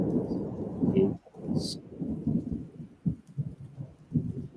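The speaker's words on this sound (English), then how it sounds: "I like that thunder." Low thunder rumbles through a rainstorm in the video game Dwarf Fortress, a soft continuous roll with swelling peaks, heard faintly alongside rain texture and no clear speech.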